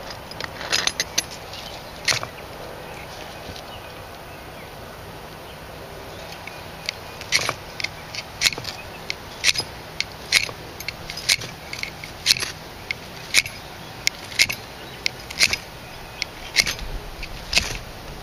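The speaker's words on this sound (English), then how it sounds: "Take my striker, my knife. Let's see if I can get it in one hit" A knife scrapes against a fire striker to light charcloth outdoors, giving a string of sharp, bright metallic scratches that grow quicker and denser toward the end over a quiet background.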